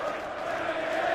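A crowd of over 10,000 at the Hydro arena in Glasgow roars steadily at a Premier League darts match, a dense, sustained wall of cheering and chanting with no breaks.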